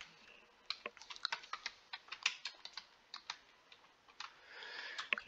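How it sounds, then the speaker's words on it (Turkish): Quiet, close typing on a computer keyboard, a quick irregular patter of light key clicks that speeds into a dense run near the end. "Chrome LuaDiffy yazıyorum."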